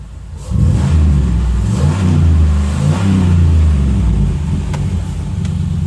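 A car engine, just refilled with fresh oil, is given gas and revs up sharply, then holds a loud, uneven revving drone with slight rises and falls until the end.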